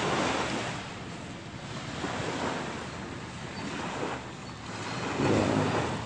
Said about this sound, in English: water hitting the beach